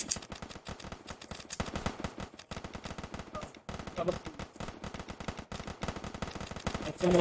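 A shooter video game fires dense, rapid gunfire almost without pause, automatic bursts crackling close and steady with a brief gap midway.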